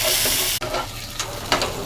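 Chopped carrots hitting hot oil in a frying pan, a loud hiss that drops abruptly, then lighter sizzling with a few stirring scrapes.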